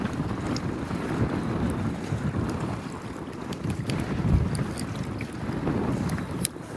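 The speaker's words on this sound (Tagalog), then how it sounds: "Medyo malakas po ang hangin." Strong gusting wind buffeting the microphone while fishing at night, a loud continuous roar with water sloshing nearby and occasional light knocks.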